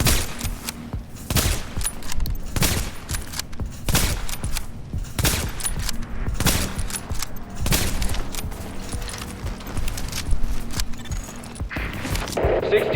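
Rapid bursts of gunfire from The Division during a Strike global event, firing from long range: repeated sharp volleys and sustained automatic fire spread across the whole stretch, loud and dense, with game effects and a brief mechanical clatter near the end.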